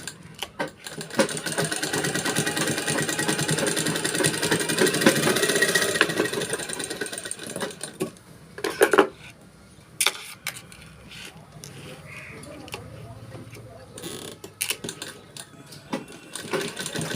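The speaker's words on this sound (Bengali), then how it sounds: "আবার সোজা দিকে একটা চাপ সেলাই দিয়ে দেবেন।" A sewing machine stitches a gathered frill onto fabric with a loud, continuous rattling whir for about eight seconds, then quieter intermittent runs and clicks follow.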